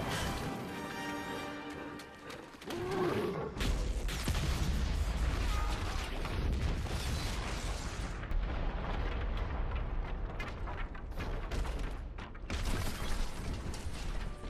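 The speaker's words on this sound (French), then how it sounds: "Mais sa contribution la plus notable est l'explosion du mur." Miniature wall blown apart for a film effects shot in The Two Towers: a sharp blast opens into a sustained heavy rumble of crashing, tumbling debris that keeps roaring for many seconds with no talk over it.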